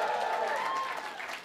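An audience at an open mic comedy show cheers and claps in a steady wash of crowd noise that gradually fades out.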